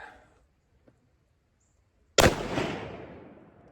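A single loud gunshot from a lever-action rifle on a 100-yard hunting range cracks out after near silence, then its echo fades away slowly.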